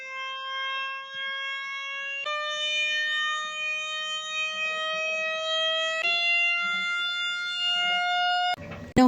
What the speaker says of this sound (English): the different harmonics appear as we increase the audio frequency.